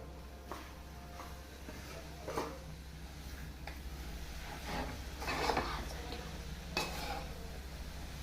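Modak filling with ghee, jaggery and cardamom being stirred and roasted in a pan, a faint soft sizzle under occasional scraping and clinking spoon strokes, with no talk.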